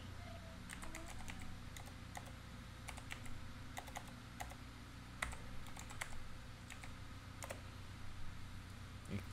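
Fast typing on a computer keyboard during a city-building tycoon game, with soft, irregular key clicks in quick bursts, fairly faint over a low steady background hum.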